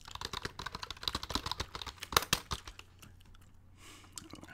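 Computer keyboard typing in a quiet video game shop, with rapid bursts of close, crisp key clicks followed by a few slower, softer taps.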